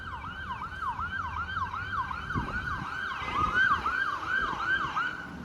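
A York Region ambulance siren wails in a rapid, repeating rise-and-fall pattern along a busy suburban road in Toronto, moderately distant over passing traffic, with no talking.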